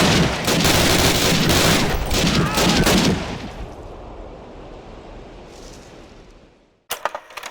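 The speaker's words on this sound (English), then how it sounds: "Covering fire!" Dense covering gunfire in a Call of Duty (2003) cutscene, loud rapid rifle and machine-gun bursts for about three seconds, then a fading rumble, a near-silent gap and a sudden loud burst at the end.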